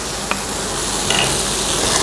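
Masala paste with cashew being stirred into tomatoes softened in hot oil for an omelette curry, giving a steady close sizzle and frying crackle with faint stirring scrapes throughout, no voices.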